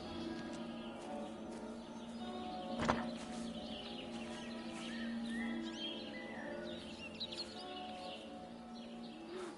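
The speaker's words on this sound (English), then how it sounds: "I'm guessing Wendy liked the birds." Birds sing and chirp faintly and at a distance in a garden in the game Everybody's Gone to the Rapture, with scattered calls over a low, steady ambient hum and one brief sharp knock early on.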